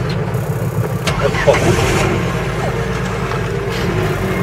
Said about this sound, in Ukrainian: От зараз послухаємо ров мотора, блін.